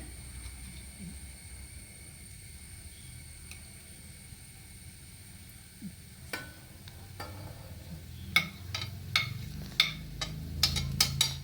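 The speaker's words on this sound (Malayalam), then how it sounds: "ഞാൻ ക്യാരറ്റ് ഇട്ട് കൊടുക്കണ്ടേ ഇത്ര കുറവാന്ന് തോന്നിയത് കാരണം കഴിയുമ്പോൾ ബീൻസ് ഇട്ട് കൊടുക്കാം" Carrots and beans fry in a pan for a Nepali dish, a quiet steady sizzle that gives way to a series of sharp scraping and stirring clicks growing busier toward the end.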